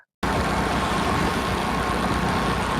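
A vehicle on the road on the way to work, heard from on board as a loud, steady rumble of engine and road noise that starts abruptly after a brief silence and holds constant throughout.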